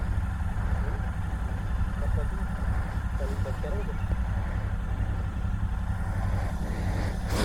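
A motorbike idles close by in a steady low throb, continuing evenly throughout with faint background noise.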